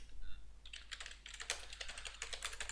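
Rapid typing on a computer keyboard with a quick, irregular patter of key clicks over a low background hum.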